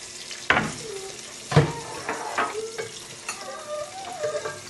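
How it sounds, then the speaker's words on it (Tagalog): Food sizzles in a frying pan while being stirred for dinner, with scraping stirs and bursts of sizzle over a quiet, close-up background. "pagluluto muna natin siya ng dinner"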